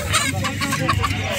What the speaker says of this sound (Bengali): দেশি মুরগি আছে।